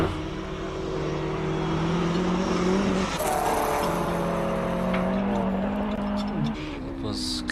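Honda front-wheel-drive race car climbing a hillclimb course, its engine note rising and shifting loudly and steadily close by, with a commentator talking over it throughout.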